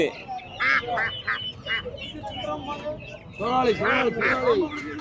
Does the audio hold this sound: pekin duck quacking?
yes